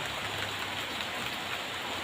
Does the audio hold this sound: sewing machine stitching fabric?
no